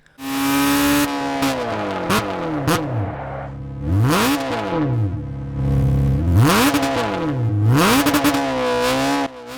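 A car engine in the video game Gran Turismo 6 revs loudly and repeatedly, its pitch sweeping up and down through several gear changes, close and continuous with no talking.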